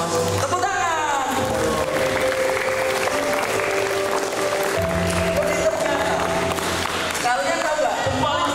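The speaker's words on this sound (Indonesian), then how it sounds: "tepuk tangan" Audience applause at a motivational seminar for sixth-grade students preparing for final exams: sustained, dense clapping fills the room throughout, over tonal background music.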